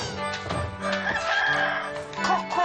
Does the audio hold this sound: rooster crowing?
yes